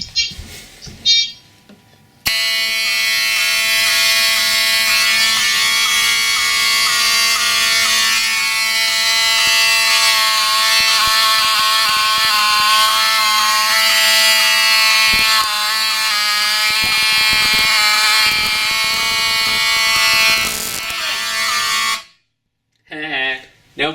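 Fire alarm system blaring during a detector test, a loud, steady electronic tone with warbling harmonics that runs almost continuously for about twenty seconds before cutting off, with brief voices and handling before and after.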